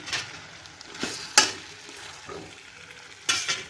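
A spatula stirs brinjal thokku in a pan, making a low sizzle under a few distinct scraping strokes, with sharper clinks near the middle and the end, close up and with no speech.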